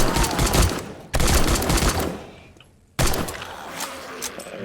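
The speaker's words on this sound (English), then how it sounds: "Shoot them till they're down and then back up a little bit." Rapid gunfire cuts down zombies in the survival video game 7 Days to Die: two dense bursts of loud, close shots, a brief lull as the noise trails off, then another sustained volley.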